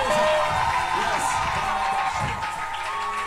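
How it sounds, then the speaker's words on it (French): A church congregation at an evening service cheers and acclaims in a steady, dense roar of voices with scattered claps and whoops, sustained for a few seconds in a reverberant hall. "Est-ce qu'on peut lui donner des offrandes d'acclamation ce soir?"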